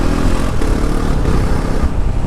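Modified KTM Duke 250 motorcycle pulling away in second gear on a quick shifter, a loud, close engine roar that holds steady throughout.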